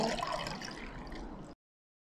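Tea being poured through a strainer to separate out the tea leaves, a soft continuous trickle and splash of liquid that stops abruptly after about a second and a half.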